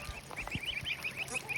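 Young geese honk and peep quickly in a near, steady series of short calls, with a few soft thumps underneath.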